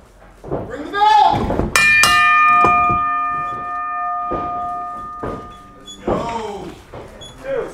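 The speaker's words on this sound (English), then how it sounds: "The bell has rung." At a wrestling match, a bell rings out with a sharp clang and long ringing decay over crowd noise and shouting.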